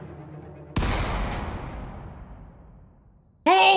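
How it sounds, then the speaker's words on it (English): A single loud gunshot blast in the Danganronpa video game, sharp onset followed by a long decaying echoing tail, then a voice cuts in abruptly. "The sound of a gunshot echoed in our ears."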